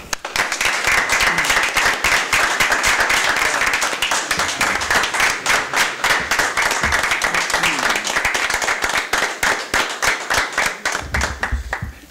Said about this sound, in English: Please join me in giving our honorees a round of applause.